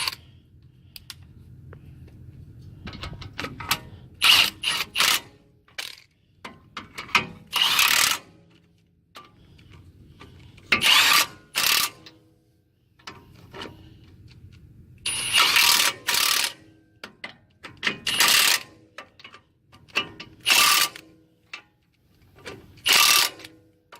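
A ratchet tightening bolts on a brake caliper during a drum to disc brake conversion, with repeated bursts of rapid clicking separated by pauses over a low background hum, close and loud.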